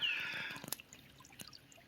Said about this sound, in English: that is a massive amount of water, and it's just coming straight, right?